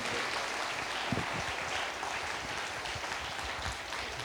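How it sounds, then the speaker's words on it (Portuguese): A church congregation at a Portuguese-language worship service applauds steadily, a dense continuous clatter of many hands filling the room from start to finish without pause. "aplauda a Deus, igreja."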